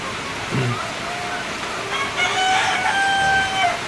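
Chickens cluck and crow in a coop on a rainy day, several calls close by over a steady wash of rain, with someone talking between them.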